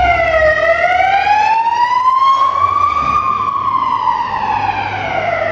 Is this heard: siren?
yes